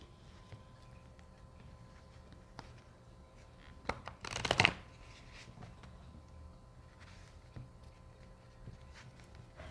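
A Cigano (Gypsy) card deck gets one quick riffle shuffle, a brief close papery burst in an otherwise quiet room.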